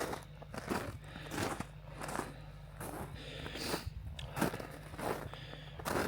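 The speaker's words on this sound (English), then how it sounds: "you can probably hear that everything's a bit crunchy underfoot." Footsteps crunch over frozen, icy ground on a cold morning walk down to a dam in the Snowy Mountains, a steady rhythm of close, crisp crunching steps with no talk.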